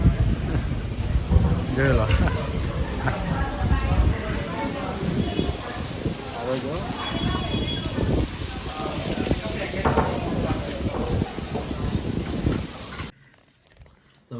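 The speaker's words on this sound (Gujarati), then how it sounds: "વાવાઝોડું આવી ગયું ખંભાતની અંદર" Heavy rain pours during a storm in Khambhat, a dense continuous hiss and patter heard close, with people talking over it until it cuts off abruptly near the end.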